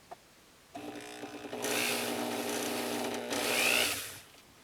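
A rotary tool fitted with a burr grinds out the seat in a 24K gold wedding band meant to hold emeralds, giving a steady, close whine that rises and holds for a few seconds before tapering off.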